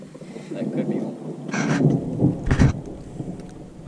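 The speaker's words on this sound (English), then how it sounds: "With the thunder in the background?" Thunder rolls and cracks twice through steady rain during a lightning storm on a fishing trip, loud, close and heavy.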